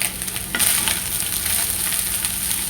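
Chicken fried rice with spring onion sizzles and is stirred in a hot restaurant-style pan, a steady loud frying hiss with scraping stir strokes throughout, no talking.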